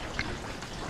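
Water from a hydroponic pump feeding Dutch bucket strawberry towers pours and trickles steadily, a soft continuous stream heard close up without any talking.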